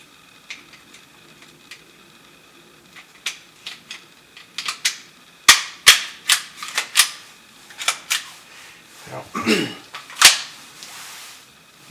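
A Taurus TX22 .22LR pistol fired at a shooting range gives a series of sharp, snappy cracks, some in quick clusters, fairly close and loud, with quieter distant shots and faint background noise between.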